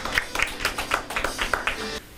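An audience at an idea contest presentation gives a short round of light, sparse applause to welcome a presenter, with separate claps in an uneven rhythm in a quiet room.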